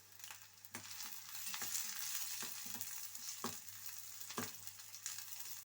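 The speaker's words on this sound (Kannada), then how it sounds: "ಇವಾಗ ನಾನು ಕಟ್ ಮಾಡಿ ಇಟ್ಕೊಂಡಿರುವಂಥ ಈರುಳ್ಳಿನ ಹಾಕ್ಕೋತಾ ಇದ್ದೇನೆ" Chopped onions and green chillies fry in hot oil for a fenugreek leaf palya, a soft steady sizzle broken by occasional louder stirring scrapes, fairly faint and with no voices.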